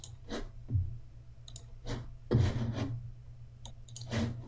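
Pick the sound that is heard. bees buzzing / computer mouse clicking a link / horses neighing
computer mouse clicking a link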